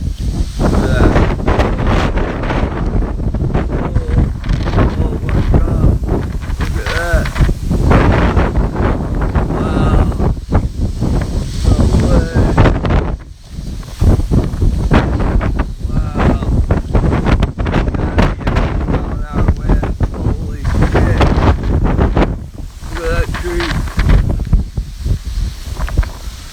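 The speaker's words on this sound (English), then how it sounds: "here we got a big wave, big gust" Hurricane Ian's strong gusts roar against the microphone in Pasco County, Florida, a loud, continuous buffeting with surging bursts and a brief lull midway, and occasional talk is buried under the wind.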